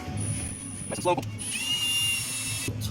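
A high, steady power-drill whine runs in two bursts with a short break between, as a drill bit deburrs metal brake line, over a constant low machine hum.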